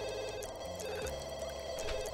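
Telephone ringing in The Sims 2, a steady electronic ring tone held throughout at low level with faint game sounds underneath.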